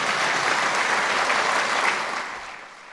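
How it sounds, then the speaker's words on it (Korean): A crowd applauds with dense, steady clapping that fills the space, then begins to fade toward the end. "이럴 땐 박수 한번 쳐주십시오."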